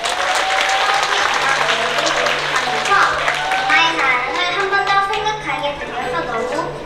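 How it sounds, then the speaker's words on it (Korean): Audience applause fills a children's song festival hall in welcome as a young girl from Daegu steps up to sing; dense, steady clapping with excited children's voices and a faint sustained tone beneath. "여러분, 큰 박수로 환영해 주시기 바랍니다"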